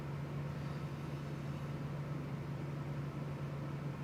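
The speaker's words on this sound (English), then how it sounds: "There is a fan on. It's my AC." An air conditioner fan runs in a room, giving a faint, steady broadband whoosh with a constant low hum underneath. It continues unchanged throughout, with no voices.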